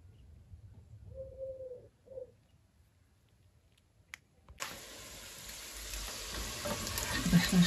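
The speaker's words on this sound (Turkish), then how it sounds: "bakın şöyle ciğerimiz bayağı kavruluyor, kıpkırmızı oldu bakın" Liver, heart and kidney sauté in rendered fat in a pan. After a quiet start with a brief cooing bird, a steady loud sizzle sets in abruptly and keeps building.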